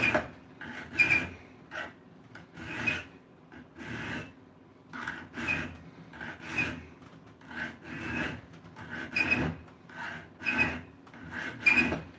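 Rhythmic rasping strokes of sanding on wood, repeated back and forth at a steady pace, with a distinct squeal on the strokes, close by and moderately quiet.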